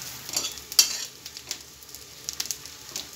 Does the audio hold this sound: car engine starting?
no